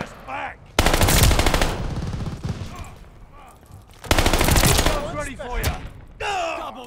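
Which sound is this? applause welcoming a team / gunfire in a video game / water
gunfire in a video game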